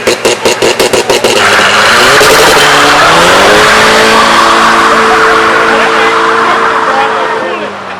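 A lowered stance car does a burnout, its engine revving hard and climbing in pitch while tires squeal continuously, loud and close, with crowd noise and voices underneath.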